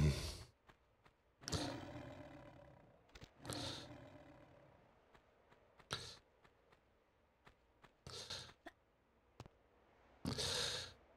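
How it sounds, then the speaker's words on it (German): Lions growling and roaring in Tomb Raider Remastered, several separate rough bursts spaced a second or two apart amid quiet gaps and faint clicks, coming from a moderate distance. "Ich höre schon wieder Knurren in der Ferne."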